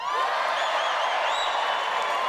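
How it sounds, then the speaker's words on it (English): A live audience of Londoners cheers and roars together in a dense, sustained wall of crowd noise that holds steady at full volume from start to finish. "Who's from London? Gives a cheer."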